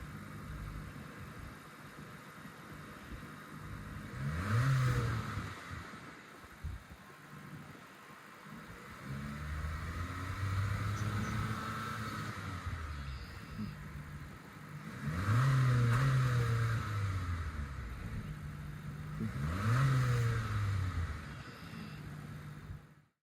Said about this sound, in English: now let's hear what this turbo four-cylinder sounds like